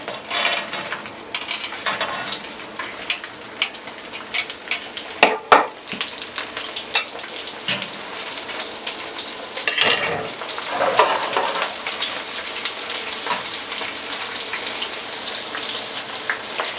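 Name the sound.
General Tso chicken frying in oil, second fry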